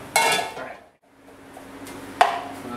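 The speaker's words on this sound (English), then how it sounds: "Really break up that mince" Metal utensil scraping and clattering against a pan while mince is broken up for chili con carne, two sharp bursts of clinking and scraping separated by a short near-silent gap, close and fairly loud.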